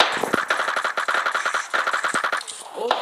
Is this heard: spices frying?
no